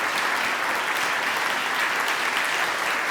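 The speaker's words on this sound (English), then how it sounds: "with a round of applause" Steady, dense applause from an audience thanking the Salisbury Children's Choir at a benefit concert, continuous and fairly loud throughout with no pauses.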